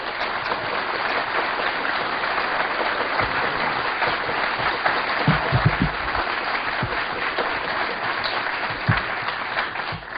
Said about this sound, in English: if you will please give a warm round of applause to Mark Phillips and Cathy OBrien.